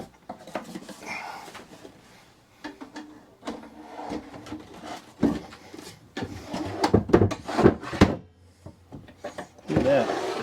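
A wooden drawer is handled and slid into a freshly screwed-in cabinet, giving a series of scraping slides, knocks and wooden thuds that grow louder near the end, mixed with brief talk.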